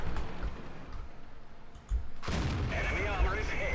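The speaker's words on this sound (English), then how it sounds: "Get a first shot off at a T-54" A tank gun fires one shot at a T-54 in World of Tanks, a sudden loud booming blast that cuts through a dull, quieter game background and rings out afterward.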